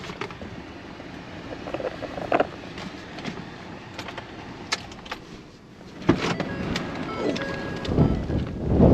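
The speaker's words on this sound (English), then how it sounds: "Wind is really blowing." Strong wind gusts across the microphone outdoors in southwest Oklahoma near an old house, producing uneven rumbling buffets that swell louder toward the end, along with faint rattles and clicks.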